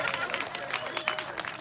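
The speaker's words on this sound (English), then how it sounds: "Go ahead, give me a clap" A crowd claps at a political fundraiser, a brief burst of scattered hand claps mixed with cheering and murmuring from the audience.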